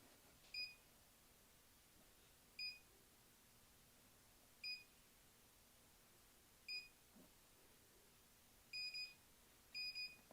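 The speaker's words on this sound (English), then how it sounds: "And you'll hear it beep when it's done." An MKBOO automatic curling iron beeping when a curl finishes, giving short, high electronic double beeps at steady two-second intervals, ending in a quick cluster, faint over a quiet room hiss.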